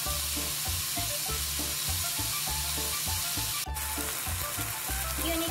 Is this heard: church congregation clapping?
no